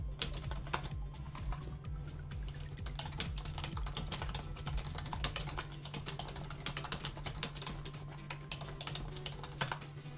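Rapid, uneven typing on a computer keyboard during a Minecraft survival session, with close, clicky keystrokes running steadily throughout over a low constant hum.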